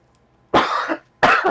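Two loud, close coughs in quick succession, each a harsh broadband burst lasting about half a second, separated by a brief pause, with no talking around them.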